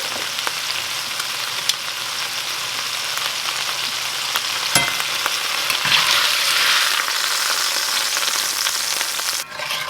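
A pot roast sears in a hot pan, giving a steady, loud, close sizzle and crackle throughout with a few small clicks and scrapes, and no talking.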